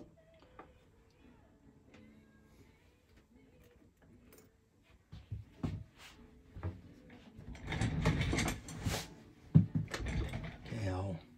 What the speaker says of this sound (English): No, I'll just file that.